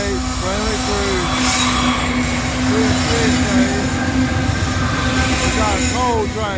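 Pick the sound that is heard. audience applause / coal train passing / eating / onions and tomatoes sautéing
coal train passing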